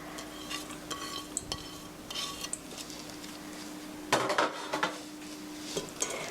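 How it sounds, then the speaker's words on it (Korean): Vegetables are mixed into a hamburger steak mixture in a bowl, with intermittent wet stirring and scraping and a louder burst of clattering near the end, no voices. "자, 채소도 같이 넣어 주시고요."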